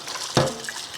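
Running tap water in a kitchen sink while rinsing hands and a de Buyer Mineral Pro B carbon steel omelette pan, a close steady hiss with a sharp splash burst partway through.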